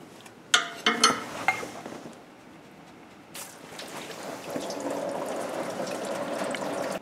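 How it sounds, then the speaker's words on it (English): Coolant drains from a car engine into a drain pan during a Dakota Digital dash install, a steady splashing pour that starts after a few clanks of a wrench and keeps running close by. "I have a drain pan underneath to catch the coolant."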